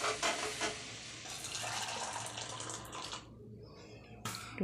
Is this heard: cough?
no